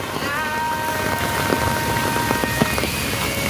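Steady heavy rain from a black rainstorm with wind hisses across the whole clip, with scattered louder drops and patters on surfaces close by.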